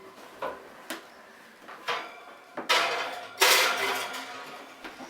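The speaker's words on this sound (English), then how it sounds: "So I'm just going to stick this in our oven right now." A pie dish going into an oven: a series of sharp clunks and knocks of bakeware and an oven rack or door, spaced irregularly with a louder rattling slide near the end, close by with no talking.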